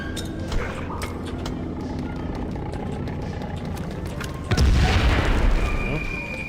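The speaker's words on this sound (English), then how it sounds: "Guess I use grenade." A grenade goes off in a shooter video game with a sudden loud boom and rumbling blast, heard over a busy background of gunfire and game noise.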